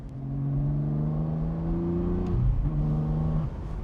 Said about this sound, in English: We're talking about a 6-liter V12, baby!